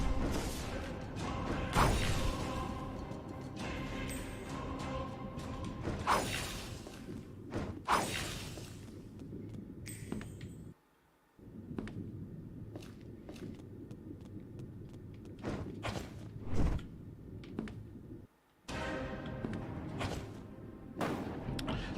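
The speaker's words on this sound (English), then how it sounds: "Oh my god, these bombs are annoying." Bombs burst repeatedly in the Hunter x Hunter Code Name T video game, thumping blasts and whooshes scattered over a busy, fairly quiet game soundtrack with brief gaps of near silence.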